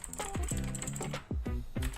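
Typing on a Lutis Lunatic K801 optical mechanical gaming keyboard, a quick run of clicky keystrokes heard close and steady over a low background hum, with no one talking.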